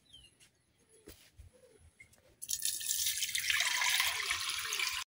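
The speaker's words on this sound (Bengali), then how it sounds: "চালটা কিন্তু আমি খুব সুন্দরভাবে ধুয়ে নিছি" Atop rice being rinsed in water for khichuri in a village kitchen: quiet drips and small splashes at first, then a steady loud rush of running, splashing water filling the back half.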